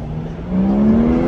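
A drift car at a car meet in Germany revving hard, its engine note climbing steadily as the tires spin and burn, loud and close with a rough, continuous roar.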